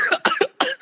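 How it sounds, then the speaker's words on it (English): Several close, loud coughs in quick bursts, a short hacking fit with brief pauses between, from a man chewing bananas during a podcast-style MMA talk show. "I'm having a cough attack over here."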